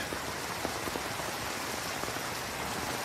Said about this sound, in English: I love that scene between Mark and Fornell under the rain and the dog